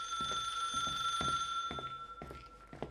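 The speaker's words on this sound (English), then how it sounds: "a good old phone call in this supposedly abandoned place" In a supposedly abandoned place in the horror game The Suicide of Rachel Foster, an old telephone rings in several short repeated bursts over a faint steady electronic hum, fairly clear and nearby.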